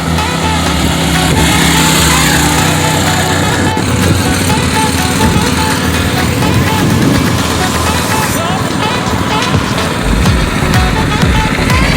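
A gas-powered MB200 full-suspension mini bike engine runs close by with a steady, loud buzzing idle and some revving, while someone talks over it.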